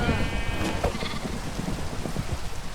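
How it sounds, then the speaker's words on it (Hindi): Sheep bleating in Minecraft during a thunderstorm: a few short, close bleats come early over a steady wash of rain noise, with soft thumps and faint murmuring underneath. "मैं इन पूरी शीप की फैमिली को उठा के लेके जा रही हूँ अपने साथ"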